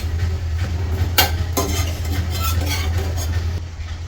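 Bread for a bread omelette frying on a pan gives a steady sizzle, with a few scraping stirs and clinks of a utensil against the pan over a low hum.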